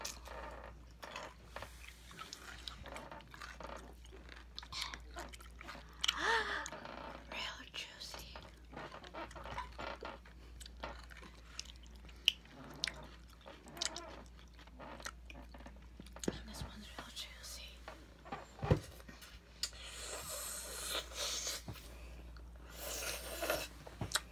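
Juicy pickles being eaten up close, with wet crunching bites and slurping smacks scattered through quiet, soft breathy murmurs between bites.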